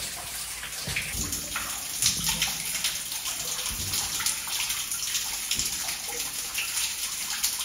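Water splashes and gushes continuously down an old wooden drain in an underground tunnel beneath Kyiv, a steady close-up rush with occasional louder spatters.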